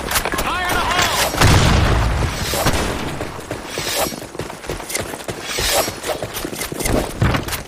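A grenade goes off in a desert military shooter game, a loud deep boom followed by crackling debris and scattered gunfire, with voices calling out over the noisy battle.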